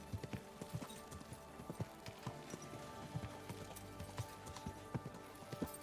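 Horse hooves clip-clopping in the video game Kingdom Come: Deliverance II, a faint, steady rhythmic series of soft hoof knocks over a low ambient background hum.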